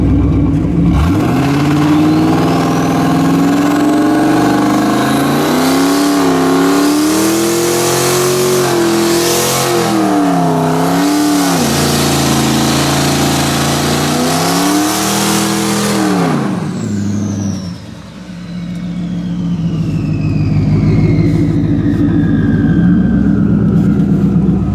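Car engine revving hard during a burnout, loud and sustained, surging and dropping in pitch for a long stretch, with a brief dip before it roars again.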